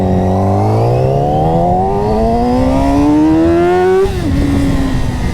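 A Yamaha R6 sport motorcycle's inline-four engine revs steadily higher in a long climbing whine during acceleration, then abruptly drops off near the end, loud and close.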